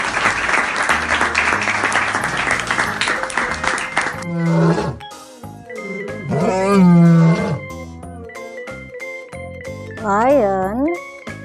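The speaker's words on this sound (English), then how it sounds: "Yes, this is a lion." Lion roaring, with loud deep roars and growls sweeping in pitch after an opening burst of music and clapping-like noise, repeated in several strong phrases close up.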